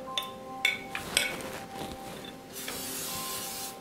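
Non-stick baking spray hisses from a can onto a casserole baking dish in a home kitchen, a short soft spray burst following a few light clinks and rubbing sounds.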